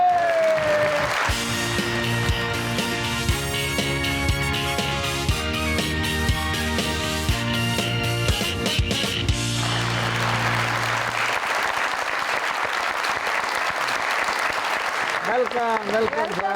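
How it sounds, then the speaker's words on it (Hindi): A studio audience at a Pakistani TV talk show claps to welcome film actor Shafqat Cheema. The dense, steady applause rises over upbeat music, then carries on loudly as the music fades out. "आप सबकी तालियों में तशरीफ लाते हैं"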